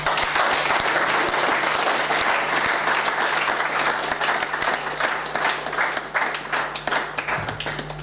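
A church congregation at a deacon consecration service in an evangelical assembly applauds loudly and steadily, dense clapping from many hands filling the room throughout, with faint voices mixed in underneath.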